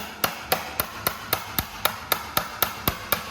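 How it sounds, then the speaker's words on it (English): Sharp, evenly spaced hammer blows drive a wood chisel into a timber beam while cutting a half lap joint, about a dozen crisp strikes in quick steady rhythm, close and alone. "You can start to drive that in. I want to really guide the wood chisel, make sure I keep that straight."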